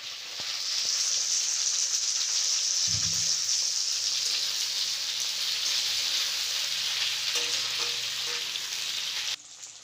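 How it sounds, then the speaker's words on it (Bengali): Hyacinth beans frying with browned onions in hot oil in a kadai, a loud, continuous close-up sizzle with a brief low thud and light stirring, ending suddenly, no talk. "পেঁয়াজটা ভাজা ভাজা হয়ে গেলে আমি শিমগুলো দিয়ে দিচ্ছি"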